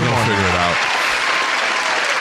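A burst of applause sound effect, loud dense clapping that swells in right after a brief spoken voice at the start and then carries on alone.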